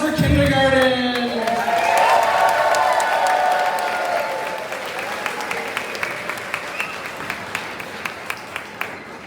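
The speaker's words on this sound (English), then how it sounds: "Big round of applause for kindergarten." Audience applause for a kindergarten class at a school show, a loud burst of clapping and cheering that starts amid a voice and music-like tones, then thins out to a few scattered, distinct claps near the end.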